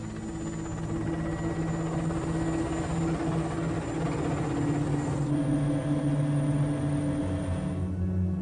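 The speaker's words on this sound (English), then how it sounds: "Our helicopter flew us out across the Caspian." Steady, loud helicopter rotor and engine drone over the Caspian Sea, continuous throughout with a constant low throb and no speech.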